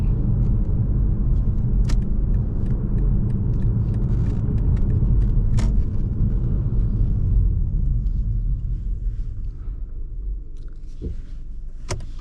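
A 2024 BMW 530i with a four-cylinder engine is driven along, its cabin filled with a steady low rumble of engine and road noise plus a few faint clicks and ticks.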